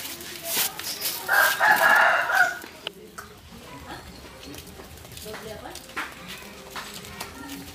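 A red imported rooster crows loudly in an outdoor comedy setting, a long harmonic cock-a-doodle-doo near the start, followed by clucking and background chatter as people talk.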